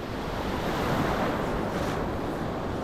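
Ocean surf rolling in at Rockaway Beach, Oregon, a continuous broad roar of breaking waves with wind buffeting the microphone.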